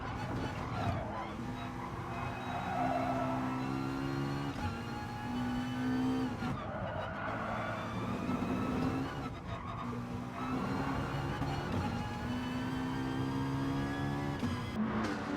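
Race cars lapping the Nordschleife in Gran Turismo Sport, including a Dodge, with engine drone and occasional tire skids under yellow flags, steady and fairly close, with someone talking over them.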